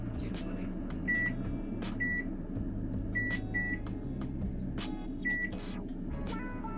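A kitchen oven's timer being set while bacon cooks, with several short electronic beeps spread across the clip over a steady low appliance hum and faint clatter.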